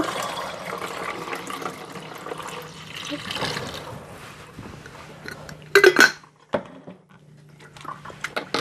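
Fruit kefir being strained over a kitchen sink, with liquid trickling and pouring, light utensil clinks and a louder splash and clatter near the end, under occasional faint talk.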